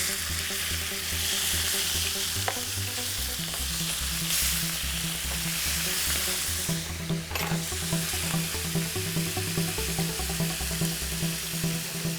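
Fish frying in browning butter in a pan, a steady close sizzle with a low hum and occasional stirring clinks, alongside seafood and diced boiled potatoes, with no talk.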